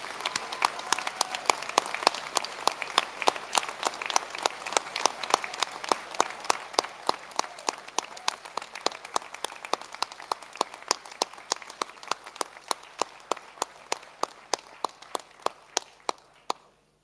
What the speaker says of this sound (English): give them a huge cheer and round of applause